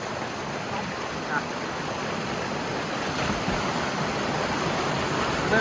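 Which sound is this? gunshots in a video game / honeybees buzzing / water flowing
water flowing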